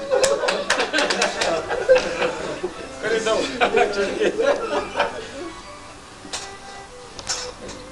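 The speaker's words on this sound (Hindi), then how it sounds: "एक दफा जोरदार तालियां इनके लिए।" A small audience at a farewell ceremony claps in scattered bursts that fade to a few late claps, while voices chatter and laugh over them.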